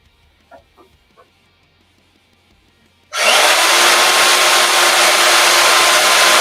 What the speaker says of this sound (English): Get some of this all thread trimmed off.